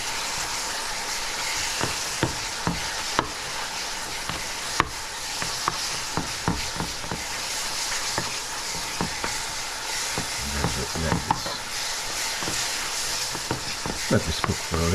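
Apple tart filling of soft apples thickened with a tablespoon of cornstarch cooks in a pan, giving a steady sizzling hiss broken by frequent clicks and scrapes of a spoon stirring, close and moderately loud.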